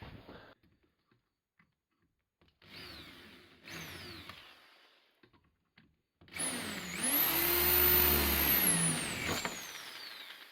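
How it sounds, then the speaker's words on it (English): A power drill whirs in a couple of short bursts, then runs for a longer stretch, its whine rising and dipping in pitch as it bites. "the next step is to drill the hole"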